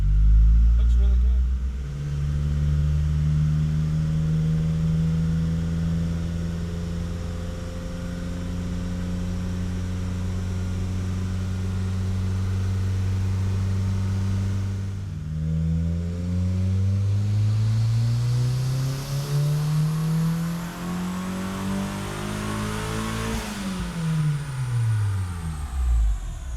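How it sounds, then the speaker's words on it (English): A tuned car with a repaired blown head gasket runs on a dynamometer, its engine holding a steady drone before swooping down and climbing again in a long rising pull, loud and continuous, with people talking over it. "We're on the dyno, we're gonna clean up the tune and see what she makes"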